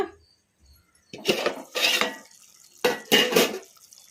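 A lid lifted off a pot of drumstick masala curry, with a few sharp metallic clanks and scrapes in two short bursts after a quiet start.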